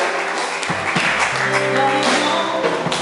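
A church congregation applauding together, a steady, dense wash of clapping close by with voices mixed in throughout.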